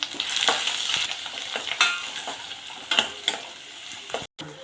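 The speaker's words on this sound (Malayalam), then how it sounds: "എണ്ണ ചൂടായിട്ടുണ്ട്. അതിനകത്തേക്ക് ഞാൻ വെളുത്തുള്ളി, നമ്മൾ അരിഞ്ഞു വെച്ചിരിക്കുന്ന വെളുത്തുള്ളി ചേർക്കുവാണേ" Chopped garlic and ginger fry in hot oil with a steady crackling sizzle, punctuated by sharp scrapes and clinks of a spatula stirring the pan, then a brief silent break near the end.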